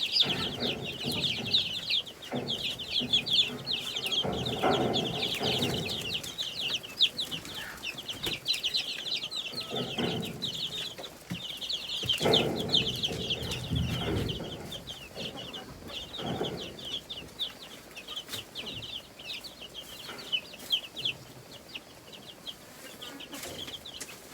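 A hen clucks steadily while her chicks peep in a continuous high chorus close by, with occasional wing flaps and rustling on a farmyard.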